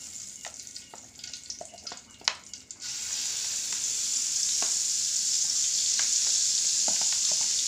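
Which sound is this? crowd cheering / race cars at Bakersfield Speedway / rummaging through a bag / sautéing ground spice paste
sautéing ground spice paste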